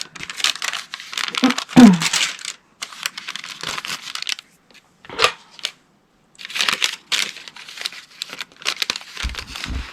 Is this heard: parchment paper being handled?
yes